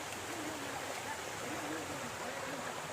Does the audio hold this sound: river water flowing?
yes